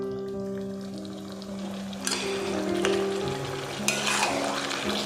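Taro leaf greens with prawns and turmeric sizzle in a pan over medium-low gas while being stirred, giving a steady frying hiss broken by scraping stirs.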